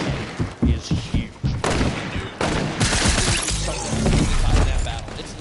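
Hand cannon shots and other weapon fire in a Fortnite Duos World Cup 2019 match, a quick run of sharp bursts at the start giving way to dense, continuous gunfire and crashing impacts, with a voice talking underneath.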